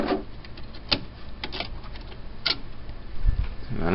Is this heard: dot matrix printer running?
yes